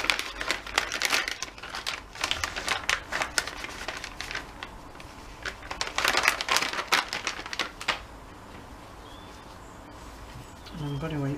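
Sheets of paper are handled and crinkled at a crafting desk during a shabby chic mixed media plaque project, with repeated rustling bursts close by and a quieter stretch near the end.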